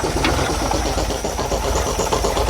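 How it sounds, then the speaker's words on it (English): An air pump running on a 68-year-old REO dump truck, a loud steady mechanical chugging and hiss over the idling engine, continuous and close throughout. "You can hear that air pump working."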